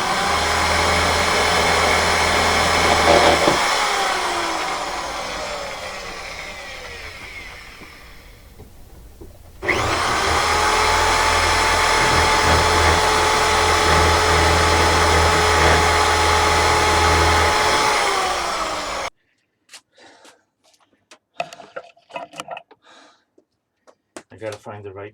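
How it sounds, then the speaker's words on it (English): A loud, steady whine of an oiled drill bit boring through solid metal at a workbench, running continuously, pausing briefly, then resuming before stopping into quiet clicks and handling noises. "I'm putting oil on the drill bit because I'm going through solid metal."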